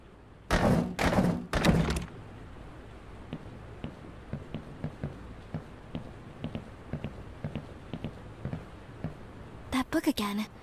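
Rattling thunks from a stuck janitor's locker in a video game, three loud hollow bangs at the start, then a run of soft evenly spaced footstep-like knocks, and another burst of clatter at the end.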